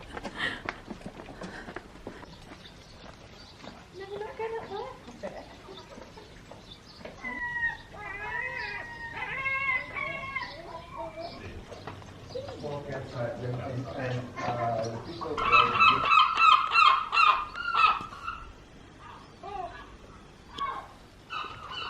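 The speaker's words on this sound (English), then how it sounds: "I think Gorran Haven has the noisiest seagulls in Cornwall." Seagulls calling in the Cornish coastal village of Gorran Haven on a summer walk, with repeated squawking cries rising through the middle and a loud burst of calls near the end, mixed with ambient noise and some talk.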